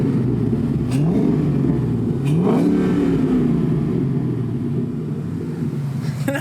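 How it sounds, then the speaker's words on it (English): A car engine revs up and down several times with a rising and falling drone and the intake audibly opening, close and loud amid wind noise. "Oh, you can hear the intake opening."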